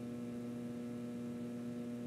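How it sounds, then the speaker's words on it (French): A fan hums steadily in the horror adventure game Harvester, a faint, constant low electrical drone with no variation. "Ventilateur."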